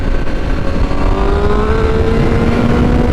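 A 2021 Honda CBR1000RR-R Fireblade SP motorcycle rides at low speed, its engine a steady close rumble with a slowly rising tone under heavy wind noise.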